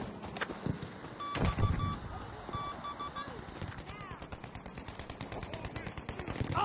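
Bursts of automatic gunfire and scattered shots in a Battlefield 5 battle on Wake Island, with sporadic and rapid volleys mixed with running footsteps and voices talking over the shooting.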